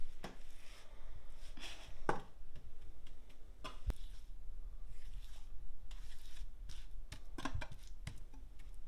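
Spatula scraping and smoothing no-bake Rolo cheesecake mixture across a dish, heard as soft irregular scrapes and taps close by, with no talk.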